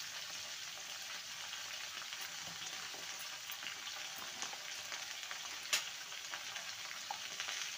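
Vegetables frying in a pan with salt and turmeric while being stirred, a steady soft sizzle with occasional scraping clicks and one sharper knock, close and fairly quiet, no talking.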